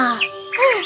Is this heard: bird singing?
yes